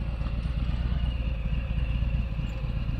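Harley-Davidson Low Rider or Fat Boy motorcycle riding along, a steady low pulsing engine rumble close by with faint road noise and no pauses.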